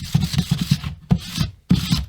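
Rhythmic rasping strokes of sandpaper on a wooden Stratocaster-style guitar body, close and fairly loud, in quick bursts separated by short pauses.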